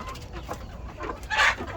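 Backyard hens clucking, with a rooster among them, in a short close burst that rises to a louder call near the end over steady outdoor background noise.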